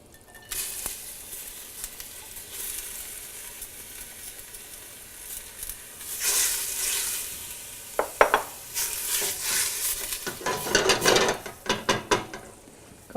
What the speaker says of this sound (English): we want to sweat the onions